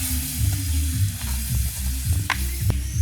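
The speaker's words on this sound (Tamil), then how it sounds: "நல்லா தூள் அன்னாசி காயில் செய்கிறபடி நல்ல வடிவாக கிண்டி விடுவோம்" Raw pineapple curry with spice powder being stirred in a pan, a steady sizzle under repeated scraping strokes of the spoon, close and moderately loud, with a couple of sharper clinks near the end.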